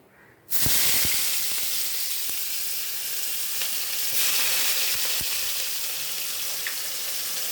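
Cumin seeds and chopped onion dropping into hot oil for a small-fish chochhori, bursting into a loud, steady sizzle right at the start and frying continuously up close with occasional crackles and faint utensil taps.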